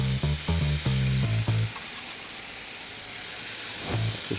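Small diced bacon cubes fry in a dry pan with no oil, giving a steady, close sizzle with crackling spatter. A few brief low tonal tones sound near the start, then the sizzle continues alone.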